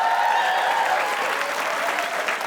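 Brief burst of studio audience applause on a comedy quiz show, full and steady clapping with a faint voice underneath, tapering slightly toward the end.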